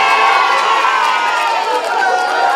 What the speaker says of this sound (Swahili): shangwe na vigelegele ni sawa